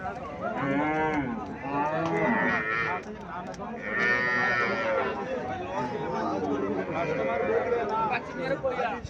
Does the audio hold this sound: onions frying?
no